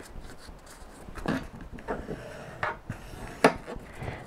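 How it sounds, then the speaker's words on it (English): Scored lines on cardstock are burnished with a hand tool, giving a few faint, short rubbing and scraping strokes. The strokes come at irregular moments over quiet room tone, with one sharper scrape near the end. "the next thing that you have to do is to burnish those lines that you just scored"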